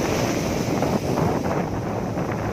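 Strong sea waves break on the shore at Samui in Thailand, giving a loud, continuous roar of surf blended with heavy wind buffeting the microphone. No one speaks.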